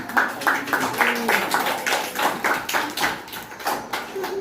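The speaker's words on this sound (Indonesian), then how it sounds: "Tepuk tangan ya." Students in an Indonesian classroom clapping, a run of sharp, evenly spaced hand claps in a steady rhythm, close and moderately loud, with faint voices underneath.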